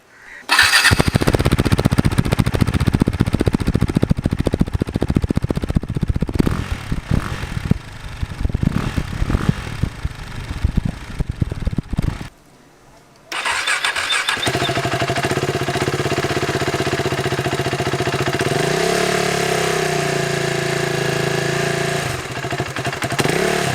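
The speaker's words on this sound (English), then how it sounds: "We would also like to show you the exhaust sound." Two KTM Duke 390 motorcycles, a 2013 and a 2018, play back to back: the first barks through sharp, loud revs, then after a brief gap the second idles steadily and blips its throttle, both close up.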